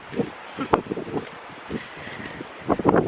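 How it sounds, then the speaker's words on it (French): Gusts of wind on Hydra island, Greece, buffet the microphone in uneven bursts of close, low rumbling, with a stronger flurry near the end and bits of talk mixed in. "J'espère que vous m'entendrez bien parce qu'il y a du vent."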